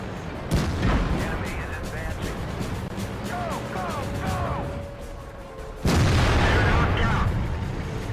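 Tank cannon shots in World of Tanks firing regular ammunition, a sharp broadband boom near the start and another heavy blast later, over a constant engine rumble and battle noise.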